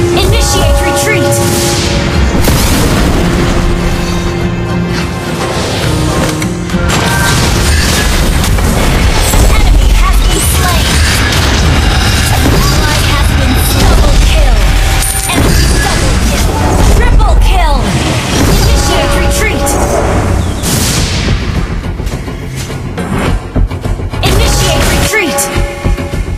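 Loud battle noise from Mobile Legends as a turret comes under attack and is destroyed: repeated booms, thwacks and crashes over game music, with announcer voices over the action.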